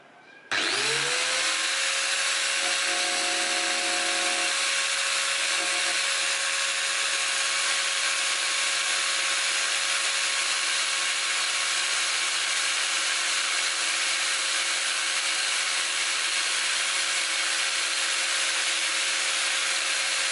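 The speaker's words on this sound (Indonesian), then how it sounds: "Sekarang kita akan mencoba untuk tes getaran pada gerinda Stanley ini." A Stanley STGT5100 angle grinder spins up and runs steadily for about twenty seconds, a loud continuous whine with a high sustained tone, close and alone with no voices.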